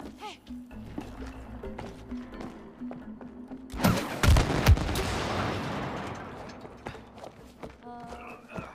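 Gunfire in the co-op video game It Takes Two: a burst of loud, closely spaced shots in the middle, over a constant game hum and soft steps, with a few tonal game sounds near the end.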